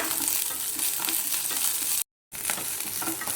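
Crushed dried red chillies and curry leaves fry in hot oil for a mezhukkupuratti of raw banana and beans, giving a steady close sizzle throughout with a brief dropout partway.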